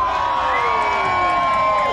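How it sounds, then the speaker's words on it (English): A crowd at a luau cheers and goes wild, a dense, loud wall of shouts and whoops that holds steady from start to finish. "I said the crowd goes crazy."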